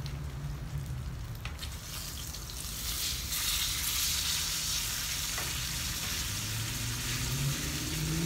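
Steak frying in a pan with butter, garlic, rosemary and thyme, a steady close sizzle that grows louder and denser midway, with faint stirring and spattering and no talk.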